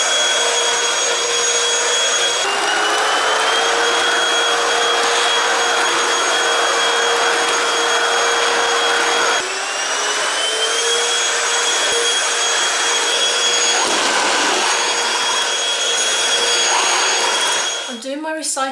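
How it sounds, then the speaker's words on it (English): A vacuum cleaner hoovers a rug in a UK home, its steady loud motor whine droning for nearly twenty seconds with slight shifts in pitch as it moves, then cutting out at the end. "I think that needs a hoover."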